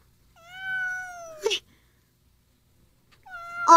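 A kitten meows twice, clear and close: first a drawn-out, wavering meow, then a short noisy burst, and after a pause a second meow that ends the clip. No one speaks.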